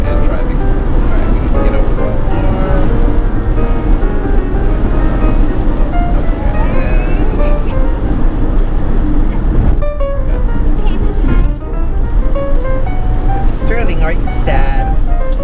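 A car driving on a freeway gives a steady, loud road rumble and engine noise, heard from inside the car under continuous conversation.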